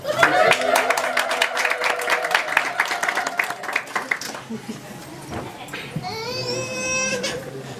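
Guests at an Eritrean wedding in London let out high, trilling ululations that rise and fall in overlapping waves, loud and close, joined by scattered clapping and a voice speaking over them.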